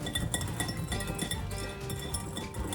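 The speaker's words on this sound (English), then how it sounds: "whisk this all together" A whisk clinks and taps steadily against a bowl while stirring a cornstarch mixture for rhubarb pie filling, with quick, irregular metallic ticks close by.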